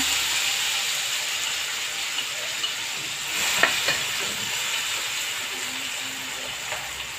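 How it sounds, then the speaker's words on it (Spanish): Tomato, onion and garlic frying in a pan with chorizo fat for lentils, a steady close sizzle that runs throughout, with a brief clatter of stirring partway through. "voy a echar a sofreír el tomate, la cebolla, el ajo"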